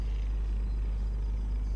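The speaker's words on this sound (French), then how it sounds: "c'est le bruit de la bagnole là-bas." A car engine rumbles in the Microsoft Flight Simulator 2020 video game, heard as a steady deep low drone from a vehicle at a Swiss airfield, continuous and even with no talking.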